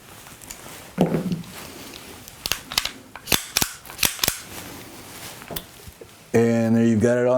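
Sharp, light cracks from a Sig Sauer Mosquito .22 pistol ring out as several separate shots at uneven intervals, fairly close, with background noise between them and a voice starting at the end.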